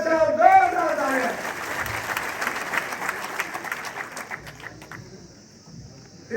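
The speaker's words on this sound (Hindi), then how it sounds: "जोरदार तालियां" Crowd applause at a public address, a sustained roar of clapping that follows an announcer's voice at the start and fades slightly toward the end.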